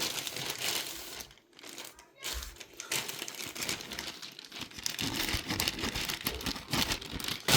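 Crinkly plastic packaging rustles and crackles loudly and continuously, with brief pauses, as a T-shirt bag is handled and pulled open.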